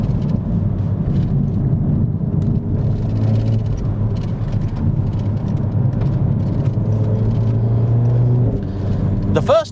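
A Renaultsport Megane 300 hot hatch driven in sport mode hums with a steady engine and road drone from inside the cabin while someone speaks over it.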